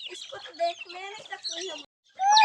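Village chickens cluck and chatter in quick, close bursts, with a louder call after a short silence at the end.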